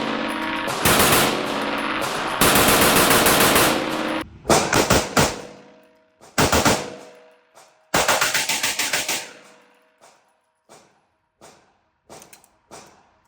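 A Springfield Prodigy pistol fitted with DSC Gunworks V8 ports fires in loud, close bursts: rapid strings of sharp cracks early on, then spaced single shots with ringing decays, no talking.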